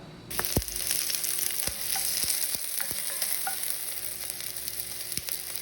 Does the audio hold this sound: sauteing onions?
yes